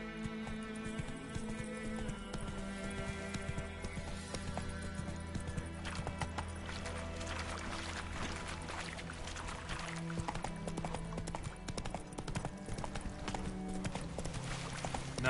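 Roach, Geralt's horse in The Witcher 3, gallops hard with steady clip-clop hoofbeats and an occasional whinny, layered over a loud game music score for the whole run.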